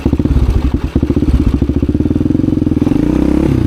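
A Honda XR400 dirt bike thumps close by with rapid single-cylinder pulses, rising into a harder rev as the clutch is popped for a wheelie.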